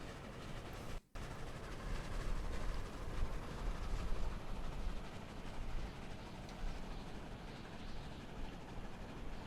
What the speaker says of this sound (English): We're in a flying train.